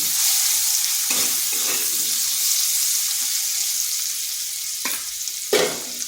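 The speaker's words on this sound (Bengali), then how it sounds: "এরপর আলুটাকে একটু ভাজা ভাজা করে নেব।" Potatoes fry in a pan over low heat with salt and turmeric, a steady close sizzle broken by a few sharp scraping stirs near the end.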